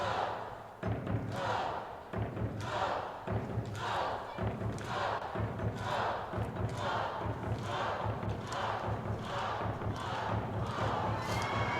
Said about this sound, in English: BC fans cheering for their girls as they head off